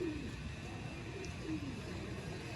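Pigeons cooing in a pigeon loft, soft low coos rising and falling over a steady background hum, faint and somewhat distant, with no talk.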